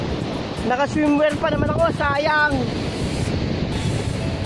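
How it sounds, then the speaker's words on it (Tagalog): Strong surf rolling onto an Iloilo beach during monsoon winds, a constant loud roar of breaking waves with wind buffeting the microphone, and someone speaking briefly over it. "Kaya sobrang lakas ng alon."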